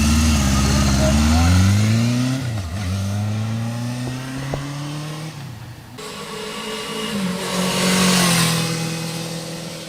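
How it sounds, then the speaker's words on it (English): A 1977 Honda CB750F four-cylinder motorcycle engine runs close by with a steady hum, its pitch rising and falling smoothly as it is revved and shifted through gears. "Smooth is the word that I use on these 750 Honda 4s when they're tuned right."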